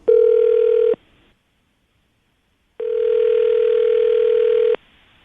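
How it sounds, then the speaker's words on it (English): A telephone call rings out on the line: a short steady ringback tone, a silent gap, then a longer tone, clear and close with no voices. "we're going to call her right now, see if we can get her on the phone"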